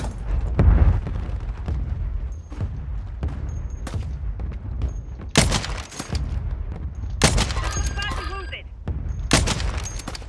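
Gunfire in Call of Duty Warzone 3 in Urzikstan's Old Town: sharp bursts of shots crack out at intervals over a steady rumbling game backdrop, some louder and closer than others.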